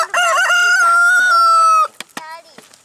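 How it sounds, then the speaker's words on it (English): Chickens on a farm, a rooster giving a loud, close, drawn-out crow followed by a few short clucks that taper off. "Look at these chickens."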